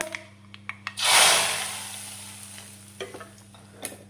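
Hot coconut oil tempering with mustard seeds and curry leaves poured into an elambakka and mango curry: a loud burst of sizzling hiss that fades slowly, with a few taps and scrapes of a spoon before and after.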